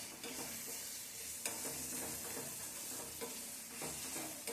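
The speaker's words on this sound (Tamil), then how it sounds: "அந்த எண்ணெயிலேயே எல்லாமே வதங்கி வரணும்." Ingredients for an egg curry sauté in oil in a pan, a faint, even sizzle with occasional soft stirring taps, heard alone without talk.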